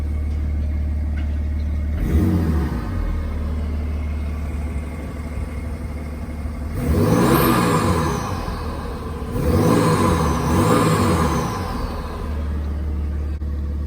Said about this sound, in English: I'll show you how the engine sounds.